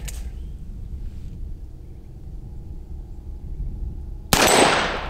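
A single sharp shot from a Ruger GP100 .357 Magnum revolver fired single action outdoors, a loud crack with a ringing tail, heard once near the end after several seconds of quiet background.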